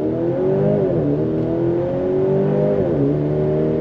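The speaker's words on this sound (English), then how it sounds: "But I wanna do an on throttle from a dead stop." A 2023 Maserati Grecale hybrid SUV with an 8-speed gearbox and a little over 300 horsepower pulls hard from a standstill, its engine note climbing steadily with brief dips at each upshift, loud and close from inside the cabin.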